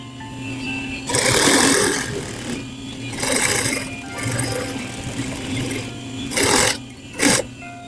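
A sewing machine stitches bias tape in several loud, close bursts of whirring, separated by brief pauses, with no voices.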